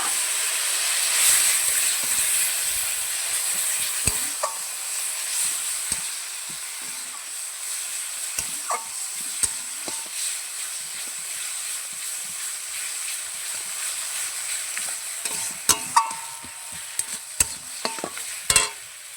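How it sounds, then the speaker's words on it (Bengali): Spice paste sizzles and fries steadily in a hot pan for a home-cooked meat curry, with a spoon scraping and stirring at intervals, close and fairly loud throughout. "ভালো করে কষিয়ে নেব"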